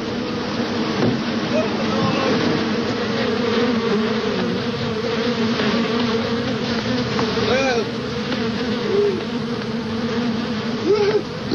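A swarm of bees buzzing loudly and steadily, a dense droning hum with occasional individual insects whining close by, filling the whole scene.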